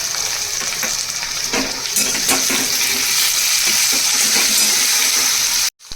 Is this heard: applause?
no